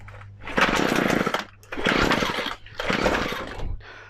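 A McCulloch MH542 P petrol hedge trimmer, primed and on full choke, fires on its first pull, giving three loud, rough bursts of two-stroke engine buzz separated by short pauses, close up and with no talk over it.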